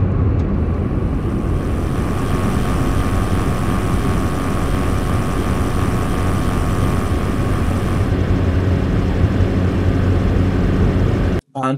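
Steady, continuous car driving noise from an outside perspective, a broad roar of engine and road rumble layered over road ambience, loud and even for most of the clip before cutting off abruptly near the end.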